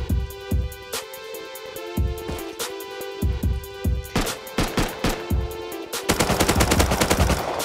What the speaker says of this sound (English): It's just gunshots